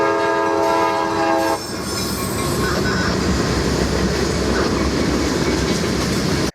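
A train sounds a loud, sustained horn blast, then rumbles past close by on the railroad tracks in Fostoria with continuous clattering wheels and rolling noise for several seconds.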